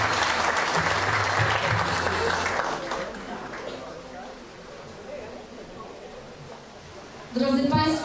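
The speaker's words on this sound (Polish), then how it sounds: "Bardzo dziękujemy, ogromne brawa." Audience applause at a 2019 sports gala: dense, continuous clapping from a large crowd that gradually thins and fades, before a voice begins speaking over a brief swell at the end.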